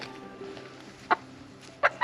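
Young meat chickens outdoors give two short, sharp clucks about three quarters of a second apart over a quiet, low background.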